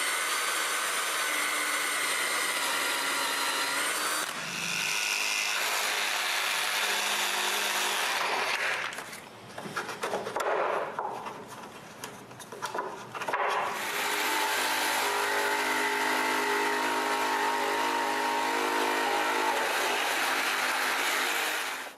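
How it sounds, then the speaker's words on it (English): A power drill bores holes in wood for electrical boxes on folding wooden shelves, a loud continuous whirring and grinding that eases briefly mid-way before resuming, close and alone. "Next, I mark and drill the holes for the 2 front electrical boxes."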